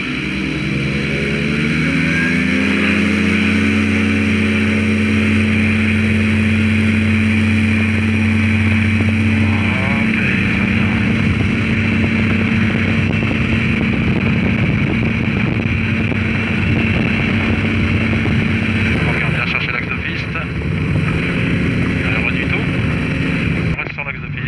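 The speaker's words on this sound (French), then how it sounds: "Ok, on y va, décollage court." Light aircraft engine droning loud and steady through a short-field takeoff from runway 16, with strong wind rush across the microphone and pilots talking over it.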